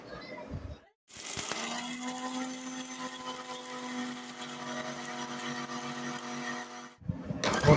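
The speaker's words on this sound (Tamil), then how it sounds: "பொட்டுக்கடலை மிக்சியில் அரைச்சாச்சு, நல்லா நைஸாக அரைச்சாச்சு." Mixer grinder whirring steadily as it grinds roasted gram (pottukadalai) into a fine powder, a loud continuous motor drone for about six seconds with brief pauses at the start and end, no talking.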